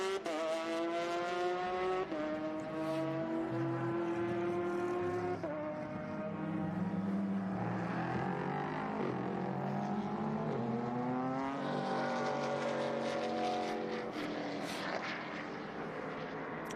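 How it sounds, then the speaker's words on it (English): A Ligier race car engine at Sonoma Raceway screams past at high speed, its steady high-pitched tone rising and falling through gear shifts as it approaches and fades, heard at a distance without talk. "It's amazing to listen to the tone of the engine."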